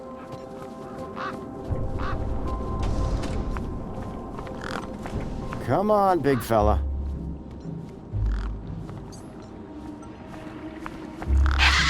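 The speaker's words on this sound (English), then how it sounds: "One particularly large and familiar bird stood out from the rest." Large birds squawk and honk amid a busy game soundscape in the video game Beyond a Steel Sky, with someone speaking over the calls.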